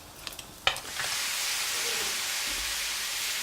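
Lamb mince hits a hot pan with a few clatters of a spoon, then a loud, steady sizzle and hiss of frying fat continues while being stirred.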